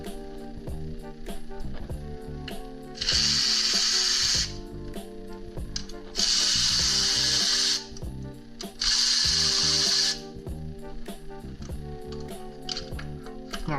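A ratchet removes 10 mm bolts from the engine covers of a 2022+ GR86/BRZ. It gives three separate whirring bursts of about a second and a half each, close by, over steady background music.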